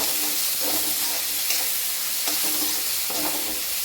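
Leftover rice with turmeric, coriander and curry leaves sautéing in a pan: a steady close sizzle, with a few soft scraping strokes of a spoon stirring through it.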